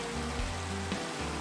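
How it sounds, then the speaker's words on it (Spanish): Steady rain falls in the Minecraft video game, a continuous even hiss with no breaks and nobody speaking. "va a empezar a llover."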